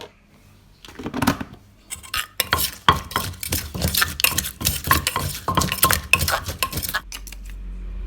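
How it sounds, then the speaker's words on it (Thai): Ingredients for a Thai lotus-stem and fresh shrimp salad with boiled fish sauce are pounded in a mortar, a steady run of close, hard thuds and clinks with no talking. "จากนั้นก็ตำให้ทุกอย่างเข้ากันค่ะ"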